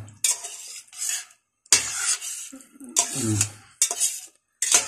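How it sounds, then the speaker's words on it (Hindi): Chana dal mixture is stirred in a pot, giving close spoon-on-metal scraping and clatter in several bursts separated by short pauses, with a faint sizzle and no speech. "इसको अच्छी तरह मिक्स करना है"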